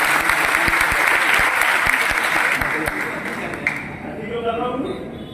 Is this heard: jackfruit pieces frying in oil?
no